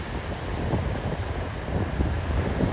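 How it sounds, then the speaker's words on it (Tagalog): Strong sea waves and gusting wind on a dolomite sand beach at high tide, a rough broadband rush buffeting the microphone with surging swells, close and moderately loud, no voices. "dahil high tide, malakas yung alon, malakas yung hangin"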